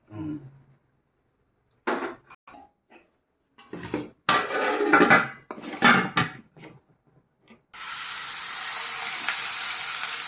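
Pieces frying in a pan: scattered clatter and scraping of utensils against cookware, then a loud steady hiss of frying oil that takes over and holds to the end, with no talking.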